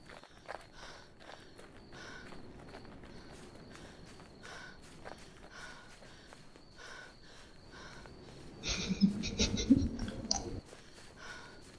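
Steady, quick footstep taps from a running video game character patter evenly throughout, fairly faint, with a louder rustling scuffle near the end and no talk.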